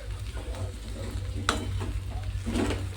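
Sabudana khichdi stirred in a pan after a squeeze of lemon: soft sizzling under repeated spatula scrapes and a sharp clink partway through, close up, with a faint hum beneath and no talk.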